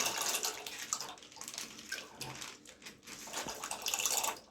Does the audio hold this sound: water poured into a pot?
yes